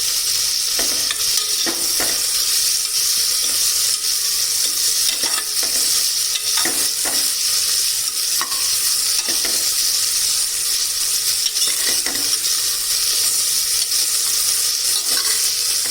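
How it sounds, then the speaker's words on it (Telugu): Carrot, potato, onion, cloves and cardamom frying in a pan for coconut milk pulao, a steady loud sizzle throughout with intermittent stirring clinks and scrapes, no voices. "ఇందులోకి టూ లవంగా టూ యాలుకలు ఇందాక కట్ చేసుకున్నాను కదండి క్యారెట్ ఆలు ఆనియన్ మొత్తం వేసేసాను ఇది దూరగా ఫ్రై చేసుకోవాలి మనం"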